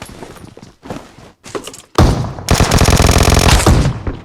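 Gunfire in the mobile video game PUBG Mobile: a few separate shots at first, then a loud, sustained burst of rapid automatic fire up close.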